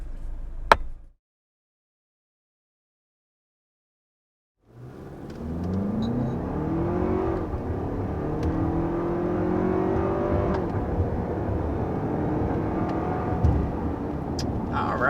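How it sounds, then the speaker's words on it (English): A 2023 Lexus RX 350 accelerates to a little over 60 mph, its engine note rising steadily in pitch through the gears. The loud, continuous hum comes from inside the cabin and follows a brief sharp noise and a few seconds of silence. "there was an acceleration up to 60, a little bit over 60 miles per hour in the all-new Lexus RX 350"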